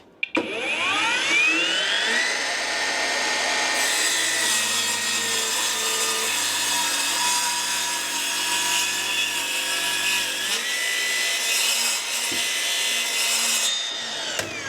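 A ProCraft PGS 28 cordless mitre saw spins up and slices through a thick wooden beam, its high whine holding steady under load for about eleven seconds before winding down, heard close with no talk.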